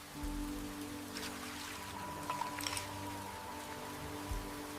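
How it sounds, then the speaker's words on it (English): Steady rain patters on a surface in a traditional village-style setting, a soft continuous hiss with scattered drops, moderately faint and close, with no voices. "The rain is so peaceful today."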